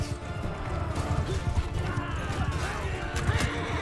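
Horse hooves clip-clop in a gallop during a Mount and Blade Bannerlord battle, with a whinny and crashing combat noise mixed into a dense, steady din, while a voice talks over the game.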